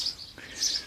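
Small birds nesting up in the roof cover of a boat give a couple of short, high chirps at the start and again near the end, fairly faint over a quiet outdoor background.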